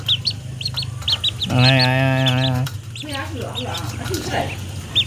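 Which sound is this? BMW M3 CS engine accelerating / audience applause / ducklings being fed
ducklings being fed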